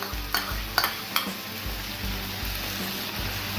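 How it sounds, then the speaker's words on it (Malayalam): Onion and capsicum sauté for chicken kung pao in a hot pan, giving a steady loud sizzle broken by a few sharp clicks and scrapes of stirring. "ഇനി ഇതൊന്ന് സോട്ട് ചെയ്തെടുക്കാം"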